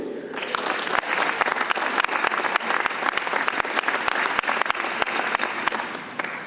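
A conference audience breaks into sustained, dense applause after a series of panels; the clapping fades in quickly and continues at an even, lively level throughout.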